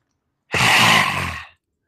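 A single forceful rasping exhale through the throat during a yoga breathing exercise, close and loud, lasting about a second before silence.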